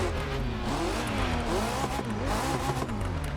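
A Chevrolet Corvette Z06 Convertible engine in the racing game The Crew revs up and down continuously with a rising and falling whine, steady and fairly loud.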